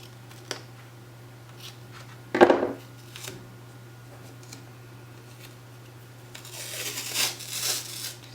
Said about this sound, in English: I like using Tim Holtz scissors because they don't stick to sticky things.